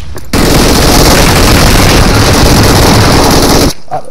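A loud, dense, continuous burst of gunfire or an explosion rumble in the battle royale game BGMI (PUBG), starting abruptly, holding steady for about three seconds, then cutting off sharply.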